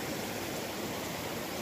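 Creek water in a lower valley flows with a steady, even rushing hiss, continuous and fairly close, with no voices over it.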